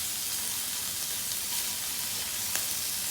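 Prawns and scallops sizzle in a pan with a steady, even hiss of frying, moderately quiet, with a faint click or two and no talking.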